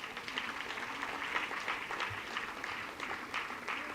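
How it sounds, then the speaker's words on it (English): An audience claps at an institute's foundation day awards ceremony. The applause is faint and distant, a soft continuous patter. "A big round of applause."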